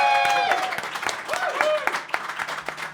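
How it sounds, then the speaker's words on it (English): An audience applauds a host's introduction with a brief spattering of claps, mixed with talking voices nearby. "Give him a round of applause."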